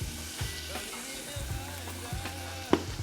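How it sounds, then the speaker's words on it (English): Jerk chicken ramen noodles simmering in liquid over high heat, a steady close sizzle and bubble with soft stirring scrapes and a sharp clink near the end. "We're gonna cook that whole thing for about 3 minutes until the noodles are nice and tender."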